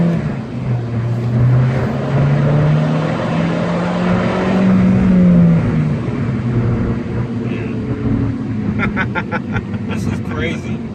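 2017 Alfa Romeo 4C four-cylinder engine accelerating on a test drive, heard from the cabin as a loud rising and falling drone through gear changes, with occupants talking over it.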